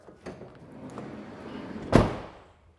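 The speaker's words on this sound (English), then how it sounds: "The door is a sliding door." A Thor Motor Coach Class B camper van's sliding door rolls along its track with soft rumbling, then ends in one loud, close thud as it latches, followed by quiet.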